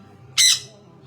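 A pet parrot gives one loud, harsh squawk, close by and brief, over a quiet room background.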